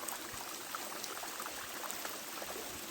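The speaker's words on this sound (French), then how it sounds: "le bruit d'écoulement de ce ruisseau" A small stream in the Chaos du Gouët, Côtes d'Armor, flows with a continuous soft rushing and trickling, steady and moderately faint, with no voices over it.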